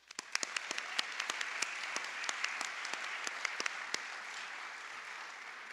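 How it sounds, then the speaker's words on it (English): An audience at a university awards ceremony gives a steady round of applause for nominees and winners, with dense, crisp clapping throughout and a few sharper individual claps standing out near the start. "one more round of applause for all of the nominees and the winners to this point"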